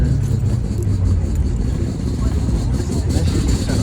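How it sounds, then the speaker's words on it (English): A rotary-engine car at a car meet, a loud, close, steady engine rumble and rev that holds for several seconds, with voices in the background. "I love a rotary engine."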